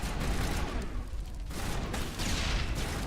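Combat in Mass Effect with a grenade blast and rapid bursts of gunfire, dense and rumbling with overlapping shots and booms, loud and continuous throughout.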